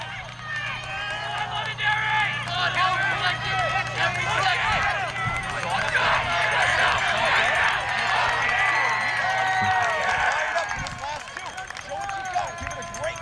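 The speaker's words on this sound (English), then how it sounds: "Had some good cheering going on for not really any spectators" Spectators at a boys' cross-country race between Londonderry and Pinkerton give continuous overlapping shouts and cheers of encouragement. The small crowd is close and lively throughout, with scattered footfalls and clapping mixed in.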